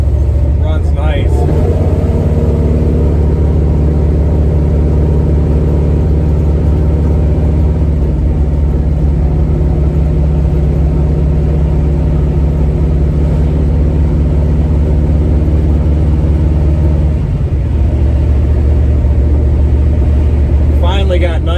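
A 1970 Chevy Nova with a freshened top end and 3.70 rear gears idles steadily outdoors, a loud continuous low rumble that dips briefly near the end, with a voice talking over it.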